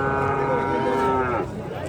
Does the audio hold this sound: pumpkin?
no